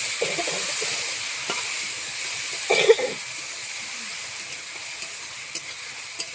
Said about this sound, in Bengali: নাড়াচাড়া করে শাকটা দিয়ে দিলাম